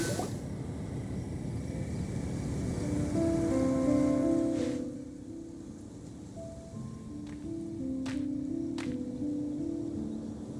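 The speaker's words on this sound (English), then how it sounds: "It's raining again?" Steady rain patters down in Genshin Impact, a dense, even hiss of drops that swells and eases, with a few brief tonal game cues and soft thuds layered on top and no talking.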